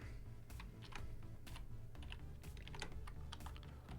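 HTML code being typed on a computer keyboard, with steady, rapid key clicks running continuously throughout at close range, over a low background hum and with no talking.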